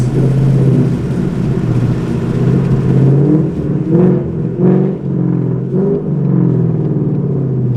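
A 2019 Mustang GT with a ghost cam tune rumbles loudly and steadily at idle, then dips and swells in a few short engine surges as it downshifts, with no voices.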